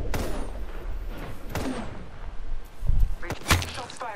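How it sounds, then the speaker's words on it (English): Gunshots fired at the player in Apex Legends ranked battle royale, several sharp cracks and thuds spread across the moment, some close and loud, others softer, with speech nearby. "Shots fired at me."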